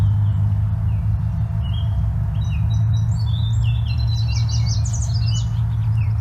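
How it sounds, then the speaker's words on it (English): A song sparrow and a yellow warbler sing outdoors, with bright, quick chirping phrases that come and go through the middle and end, over a steady low rumble of distant traffic. "So we just heard a song sparrow in the background and a yellow warbler right away."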